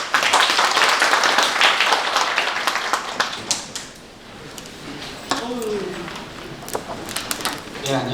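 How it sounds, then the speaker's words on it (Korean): Audience applause at a Korean green building policy conference, loud clapping at the start that fades over several seconds, followed by a speaker beginning to talk. "큰 박수 부탁드리겠습니다"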